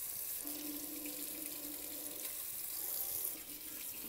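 Tap water runs steadily into a sink, a continuous close hiss and splash, with a faint tonal hum for a few seconds while hard-boiled eggs are being prepared for peeling.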